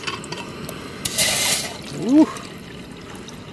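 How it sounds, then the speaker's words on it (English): Water pours briefly into a Jetboil gas stove pot outdoors in winter. The splash builds to a short gurgle, and a person makes a single exclamation. "Boil some water."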